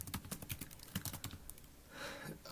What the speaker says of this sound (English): and we start typing